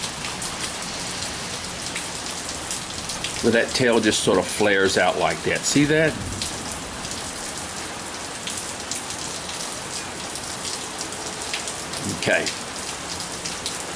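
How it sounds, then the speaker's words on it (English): Steady rain falls outside, a constant loud patter filling the background throughout. Someone speaks briefly over it, and a wood-whittling scrape is heard near the end. "It's raining here today, so you're hearing a little bit of rain."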